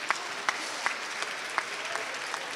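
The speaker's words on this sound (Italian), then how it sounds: "applauditevi." School classes applauding at an award ceremony for a mother-tongue language contest, a steady, fairly soft wash of clapping from a crowd, with a few sharper individual claps standing out.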